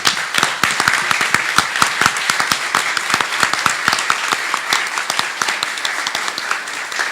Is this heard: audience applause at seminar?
yes